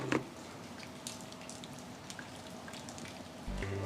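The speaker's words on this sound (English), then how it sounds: "today it is raining" Steady rain patters with scattered drops tapping nearby, a continuous soft wash of water with a slightly louder burst near the end.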